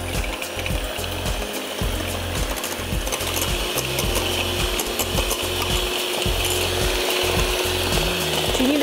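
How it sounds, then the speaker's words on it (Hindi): Four eggs are beaten briskly in a bowl, a rapid, regular scraping and tapping rhythm of whisking that continues steadily and close up throughout, with no talking. "सबसे पहले यहाँ आपने लेने हैं 4 अदद अंडे और उनको आपने कर देना है बीट"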